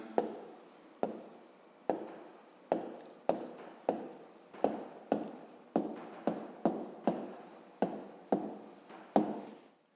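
Pen or pencil writing out the answer to a fifth-grade math exercise on rays, segments and lines, heard close up as a series of short scratchy strokes in an uneven rhythm, with no talking.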